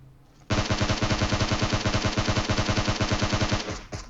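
Rapid automatic gunfire in PUBG Mobile, a dense sustained burst of evenly spaced sharp shots, loud and close, lasting over three seconds before stopping abruptly.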